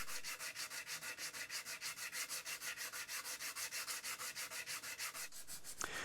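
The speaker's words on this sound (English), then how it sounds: "I've got to sand the tung oil off the bottom of the heel so that it won't interfere with the gluing process" Tung oil being sanded off the heel of a wooden neck for a six-string multi-scale guitar, a steady rhythmic back-and-forth rasp of sandpaper strokes, close and loud, about five strokes per second, with no talk.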